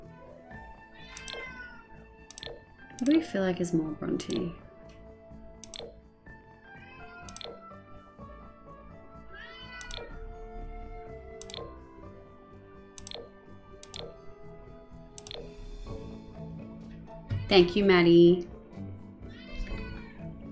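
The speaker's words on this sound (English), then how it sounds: "I don't know if you guys can hear the cat meowing outside my" A cat meows repeatedly outdoors in drawn-out, wavering cries, two louder bouts among them, while a person talks quietly nearby indoors.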